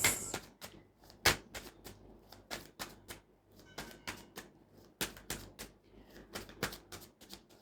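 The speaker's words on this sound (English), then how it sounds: "One last shuffle." A deck of tarot cards being shuffled in quick, crisp bursts of riffling, with short pauses between rounds, close up and no talking.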